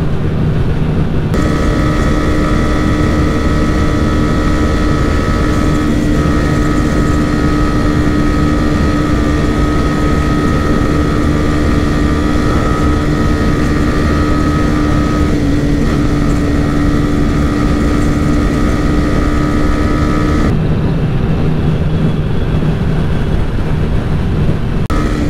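Two motorcycles, a TVS Raider 125 and a Bajaj Pulsar 125, in a drag race: a loud, steady engine drone with sustained tonal whine holds for about twenty seconds, then drops away toward the end.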